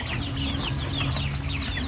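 Chickens and chicks cluck and cheep continuously in a close, busy cluster, with soft chirps over a steady low background hum and no talking.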